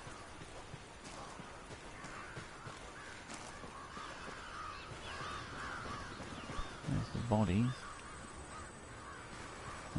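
Crows cawing in the video game Ghost Recon Wildlands, a few harsh caws rising in a brief burst near the end over a quiet ambient bed, with a faint voice speaking a word early on.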